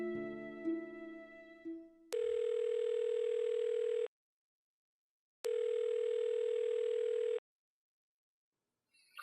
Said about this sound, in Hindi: फोन नहीं उठा रहे, पर अभी उठा लेगा